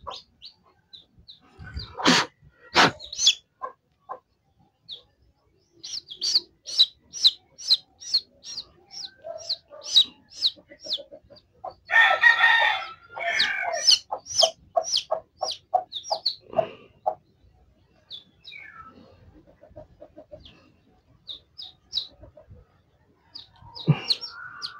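Young chicks peep and adult chickens cluck in a rural poultry setting, a steady stream of short, sharp calls with a few louder squawks, fairly close and with almost no talking.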